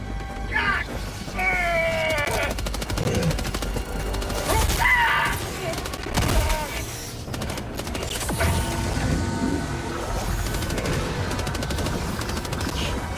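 Dense automatic gunfire aimed at a Charger in the video game Helldivers 2, loud sustained bursts mixed with crashes, explosions and mechanical clatter, with voices talking over the fighting.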